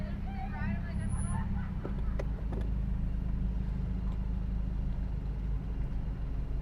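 A Dodge Charger with a Hemi 392 V8 cruises the Las Vegas Strip at night, its engine giving a steady, continuous low rumble from inside the car, with a brief voice near the start.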